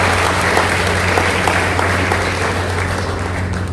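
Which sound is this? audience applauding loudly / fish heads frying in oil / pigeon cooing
audience applauding loudly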